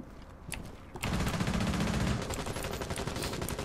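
Rainbow Six Siege gunfire, loud and sustained, with a few single shots that break into rapid continuous automatic fire lasting several seconds.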